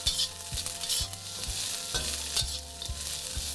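About a pound of chopped broccoli stir-frying in oil, a sharp close sizzle with rhythmic spatula knocks and scrapes against the pan roughly every half second, no speech.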